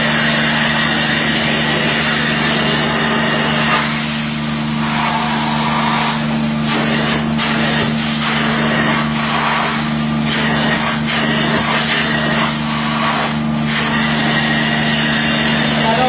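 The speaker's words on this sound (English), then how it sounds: "we're ready to extract the fringe and clean it up, so let's extract it and let's see what it looks like" Carpet extraction machine cleaning the fringe of an Oriental area rug, a steady loud motor drone with a constant hum and hissing suction, occasional brief scrubbing surges, no voices.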